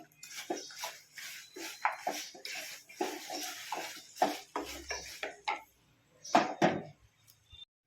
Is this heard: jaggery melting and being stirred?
yes